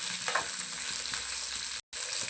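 Cumin, coriander seeds and onion pieces sizzle loudly in hot oil while being stirred and mixed, a dense close-up frying hiss with light scraping, briefly cutting to silence near the end.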